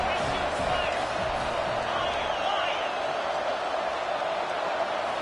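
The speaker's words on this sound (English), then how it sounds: "Listen to this crowd begging its defense to get a stop." Steady, dense roar of a large stadium crowd cheering to urge its defense to get a stop in College Football 25, loud and continuous with a commentator's voice faintly under it.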